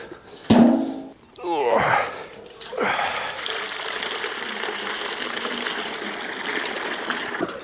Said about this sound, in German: Ich werde noch ein bisschen mehr Wasser rauspumpen.